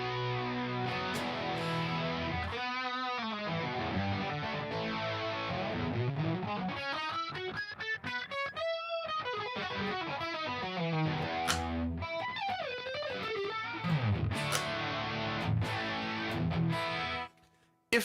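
An electric guitar played through a Spark amp with chorus and distortion rings out in sustained, heavily driven chords and wavering bends, loud and continuous, before cutting off abruptly near the end.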